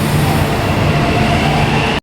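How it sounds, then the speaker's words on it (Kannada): A Bengaluru metro train pulls out of a station with a loud, steady rail rumble and wheel roar close by, ending abruptly after about two seconds. "Tata metro is going literally. ಅಪ್ಪ ಹೆವಿ ಸ್ಪೀಡ್ ಮೆಟ್ರೋ"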